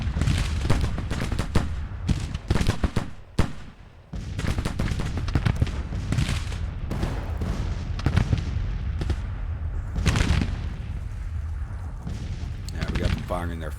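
Cannon and artillery fire in a Civil War battle video game, set in a Union summer 1861 campaign: repeated loud booming blasts and rattling volleys close by, with gaps in between.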